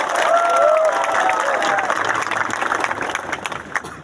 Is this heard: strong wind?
no